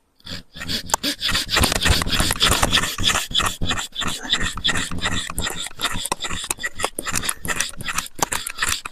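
A hand saw cuts through plum tree wood in quick, rhythmic back-and-forth strokes, rasping loudly and close up for several seconds.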